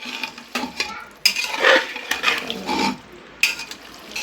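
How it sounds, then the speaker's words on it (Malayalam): Beef masala is stirred in a pot with irregular scraping and clinking strokes over a soft sizzle, close and moderately loud, in uneven bursts. "നന്നായി ഇളക്കി ഇതൊന്ന് മസാലയ്ക്ക് പിടിക്കുന്ന രീതിയിലൊക്കെ നന്നായി ഇളക്കി"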